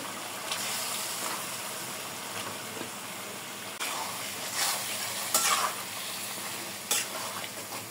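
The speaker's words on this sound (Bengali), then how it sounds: "মাছ দিয়ে দেবো। প্রথমে মাছটা কষায় নিতে হবে ভালো করে।" River pangas fish fries in a spice masala with a steady close sizzle and hiss, while a utensil stirs through the pan in occasional louder scraping bursts.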